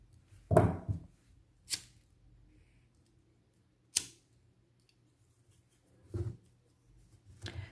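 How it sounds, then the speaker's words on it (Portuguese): Scissors snip off the thread ends of a crochet mandala sachet, five or so crisp, close cuts spaced a second or two apart in an otherwise quiet room. "aí vou cortar e queimar aqui essas duas pontinhas"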